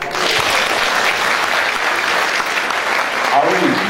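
Steady, dense audience applause filling a cabaret hall, loud and continuous without a break for the full stretch, a few louder claps rising near the end.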